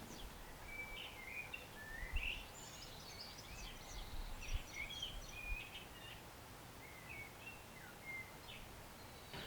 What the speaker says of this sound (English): This is a female blackcap